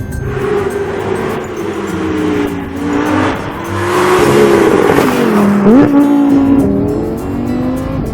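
A 2016 Lamborghini Huracan engine revs hard and climbs through the gears, loud and close, with a brief dip and sharp rise midway as it keeps accelerating.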